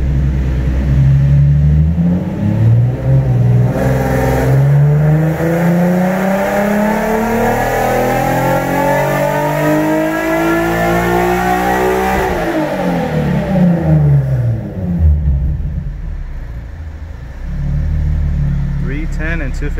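A turbocharged Nissan 370Z with a low-boost BP kit roars on a dyno, its engine climbing steadily through the revs for about twelve seconds before the revs fall away. The sound is loud and close throughout.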